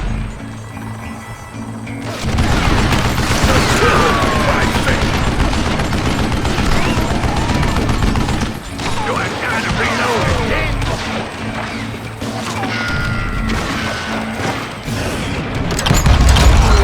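Gunfire in the Western shooter Call of Juarez: Gunslinger, a dense, continuous barrage of shots with mechanical clatter starting after a quiet opening and running loud to the end, with a voice speaking over the shooting.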